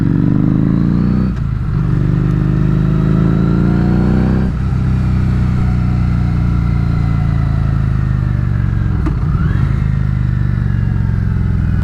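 A Harley-Davidson motorcycle engine runs steadily and loudly while riding down a dead-end road, the throttle held even with a low rumbling drone and brief dips in pitch as speed shifts.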